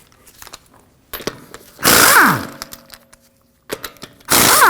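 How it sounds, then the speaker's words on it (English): An impact wrench breaks loose lug nuts on a 2016–2022 Honda Pilot with a 22mm socket, sounding as two loud, sharp bursts of whirring hammering, each about half a second long, separated by quieter clicks and handling noise. "now we can remove our lug nuts with a 22mm"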